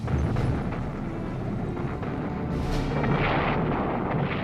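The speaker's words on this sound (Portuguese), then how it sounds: "Os alemães no Monte Zillow disparavam com uma arma poderosa, um canhão de 88 milímetros." A German 88 mm cannon fires in a sustained, rumbling barrage, heavy low booms rolling over one another with a sharper blast near the end, loud and continuous with no talk.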